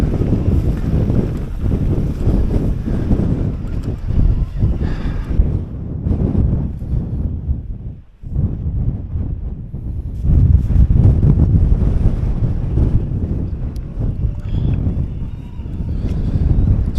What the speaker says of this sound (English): The wind had dropped, but it's just picked up again.